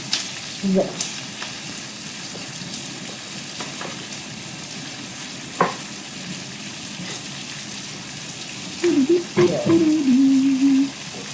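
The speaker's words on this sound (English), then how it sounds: "So I'm trying to get the onions into a semi-saute" Onions sauté in a pan with a soft, continuous sizzle, interrupted by a sharp knock and a few brief clatters, while a faint voice murmurs briefly near the end.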